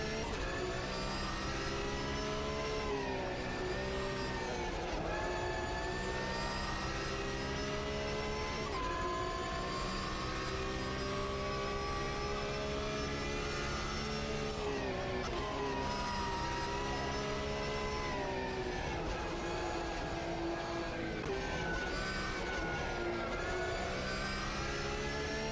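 A race car engine in the Automobilista 2 racing video game drones continuously with a steady harmonic whine that rises and falls as it revs, played alone at moderate level without talk.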